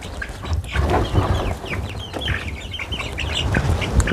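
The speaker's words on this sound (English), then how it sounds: "Oh, chickens are in there already?" Chickens on a Texas homestead cluck and chatter close by in a busy, continuous flock murmur, with small sharp calls scattered throughout.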